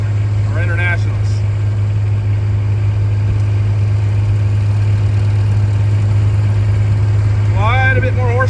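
Newer Case and International tractors idle at the Half Century of Progress vintage farm show in Rantoul, Illinois, a steady low engine drone held throughout, with brief voices heard near the start and end.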